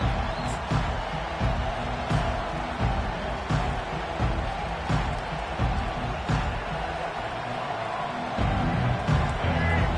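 Football stadium crowd at Colorado versus Alabama, a steady loud roar of cheering fans filling the whole span, with a broadcast commentator's voice partly audible over it.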